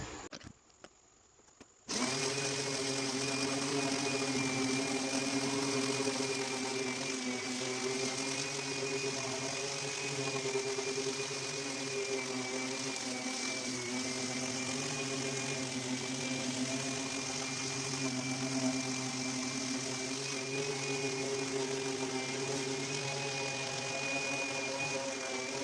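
A power sander running steadily on a plywood turtle-style subwoofer box, a loud continuous motor whine with strong tonal hum that starts abruptly after a short quiet lead-in and holds for the rest.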